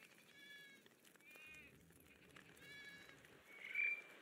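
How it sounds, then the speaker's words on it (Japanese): Short goat bleats from the Island Hoppers mobile game, several wavering calls in a row with faint background game music, fairly quiet with no talking. "ヤギ。"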